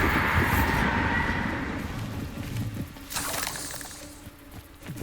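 The Bombarda spell goes off in the Hogwarts Legacy game with a loud crashing, shattering blast that rumbles and then fades, followed by a second, weaker burst.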